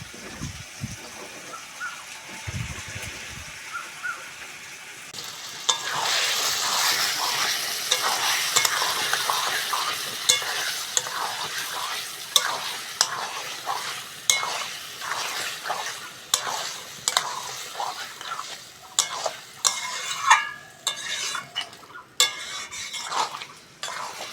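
Bombay duck fish, salted and coated in turmeric, frying and being stirred into a spice paste in a pan on a village cooking fire; quiet at first, then steady sizzling with repeated scraping strokes and clinks of utensil against pan, no talk.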